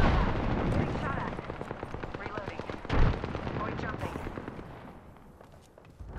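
Rapid video game gunfire rattles in dense bursts, broken near the middle by a heavy frag grenade blast, with indistinct voices mixed underneath.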